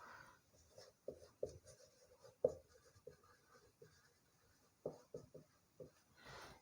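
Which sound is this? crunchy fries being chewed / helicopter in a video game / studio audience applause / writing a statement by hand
writing a statement by hand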